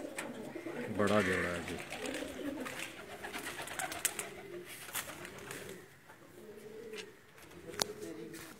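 A golden pigeon pair cooing in soft, repeated low calls, with a louder burst near the start, heard close under someone speaking.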